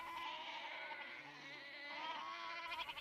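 Goats bleating near a Himba village in Namibia's Himba country, animal calls recurring at moderate distance over a steady outdoor background, with no speech.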